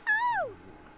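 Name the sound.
cat meowing in The Sims 3 video game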